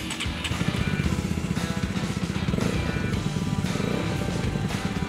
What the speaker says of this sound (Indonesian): Ini kita coba nyalain motornya.